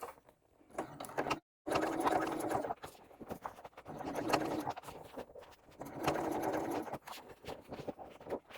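A sewing machine stitching a bag runs in bursts of quick, rattling mechanical chatter, with short pauses between runs as the fabric is fed through, fairly quiet and close.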